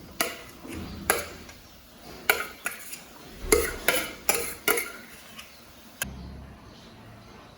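A spoon or cutlery scraping and clinking against a dish while a food mixture is stirred, giving a series of irregular, close taps and scrapes that pause near the end.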